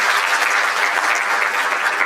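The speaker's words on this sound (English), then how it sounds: "round of applause for him." A crowd at a mental wellness and counselling breakfast conference gives a speaker a round of applause, a dense, steady clapping that fills the whole two seconds at an even, loud level.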